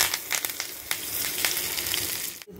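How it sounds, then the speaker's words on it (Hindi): Steady hot-oil sizzle with crackling pops as a tempering is added to chutney, loud and continuous, cutting off abruptly near the end. "हम तड़का इसमें डाल रहे हैं।"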